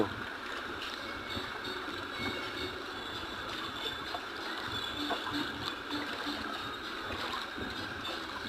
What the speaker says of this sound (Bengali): দেখুন জল এক জলমগ্ন হয়ে গেছে পুরো রাস্তা দেখুন জলের টান কত